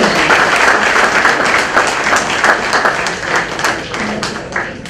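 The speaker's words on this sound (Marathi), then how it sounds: "ह्या तेरा पुस्तकांसाठी एकदा जोरदार टाळ्या व्हायलाच" A book launch audience in Pune breaks into loud, sustained applause that fills the room for several seconds before slowly easing off.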